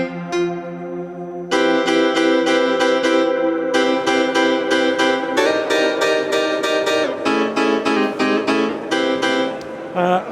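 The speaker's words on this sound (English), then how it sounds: "like a really nice kind of house piano." House piano sampled on a Knobula Pianophonic sample and wavetable module plays repeated stabbed chords in a steady rhythm with rich sustained harmonics, loud and close, alone with no talk.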